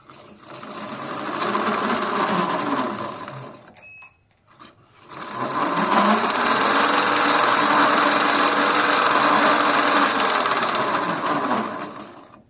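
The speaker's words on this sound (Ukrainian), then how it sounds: "Так оце лебідка за 3000. Я тормоза ослабив вона працює." An electric winch with a motor-reducer runs with its brakes loosened, giving a steady mechanical whir and hum for several seconds, a brief pause with clicks, then a longer, louder continuous run that cuts off near the end.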